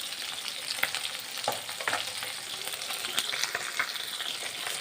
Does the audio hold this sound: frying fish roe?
yes